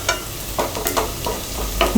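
Onions sautéing in oil for prawn pulao, a close, fairly loud sizzle broken by a few quick spatula scrapes and taps in a short burst.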